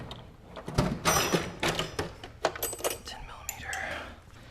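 Metal wrenches clink and jangle as someone rummages through them during a Chevy Colorado ZR2 exhaust install, a series of close, uneven metallic clatters with a brief whisper-like voice.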